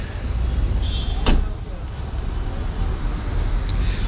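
The boot door of a 2022 Maruti Alto 800 LXI swings shut with one short, sharp thud heard early, set against a steady outdoor rumble of traffic and a voice speaking nearby.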